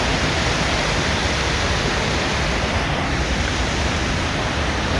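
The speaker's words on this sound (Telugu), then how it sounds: "వాటర్ అయితే మంచి ఫ్లోలో పోతుంది" Strong river water rushing past an embankment in the early morning, a loud, constant roar of broadband noise with no breaks and no voices, filling the whole scene close up.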